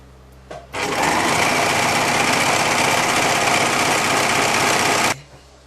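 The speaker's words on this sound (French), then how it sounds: "Si vous n'avez pas une surfileuse, là c'est une petite surfileuse" A small overlock serger runs steadily for about four seconds, stitching the side seam of drawstring-waist trousers, a loud even whirring buzz that starts and stops abruptly, close by with no talk.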